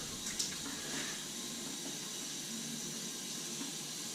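Cold tap water running and splashing into a bathroom sink while rinsing after a straight razor shave, a faint steady hiss of flow with small splashes, alone and close.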